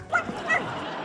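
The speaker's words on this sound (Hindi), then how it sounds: "इस खतरनाक गली में खतरनाक कुत्ते हैं" Dogs in a street give two short yipping barks about half a second apart, fairly close, with a low background hum.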